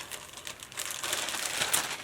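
A plastic bag from an online fashion order being opened, giving a steady, close crinkling rustle for about two seconds that swells slightly toward the end, with no voices.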